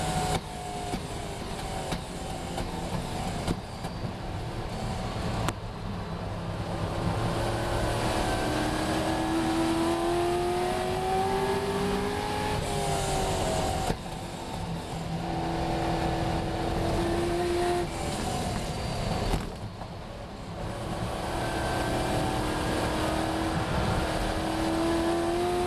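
A race car engine at full power through a fast lap, heard from onboard: a loud steady roar with rising and falling pitch as it shifts gears, no talking.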